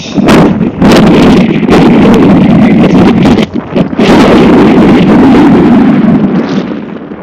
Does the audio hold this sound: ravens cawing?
no